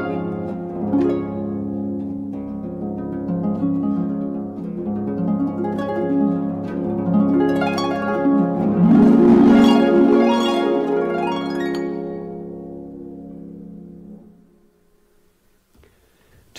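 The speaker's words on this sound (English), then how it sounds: "And there's one more special instrument, the harp." Harp strings plucked in flowing arpeggios and chords, resonant notes ringing and overlapping, building to a fuller swell before fading into quiet, played alone.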